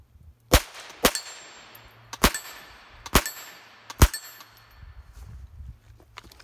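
An AR pistol fired outdoors, five sharp ringing reports in an uneven sequence, each trailing into a short metallic decay, with quiet gaps between shots.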